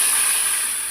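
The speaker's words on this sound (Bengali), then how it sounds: "জল দিয়ে দিলাম।" Water poured into a hot pan of sour curry seasoned with turmeric sets off a loud, steady sizzling hiss that fades slightly toward the end.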